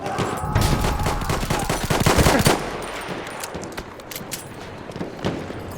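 Dense automatic weapon fire rattles in a Battlefield 1 match, sustained bursts of rapid shots that peak early and then thin into scattered distant firing.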